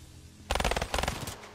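Rapid automatic gunfire in Black Ops 3 gun game, two close, loud bursts of quick evenly spaced shots separated by a brief pause, with no talking.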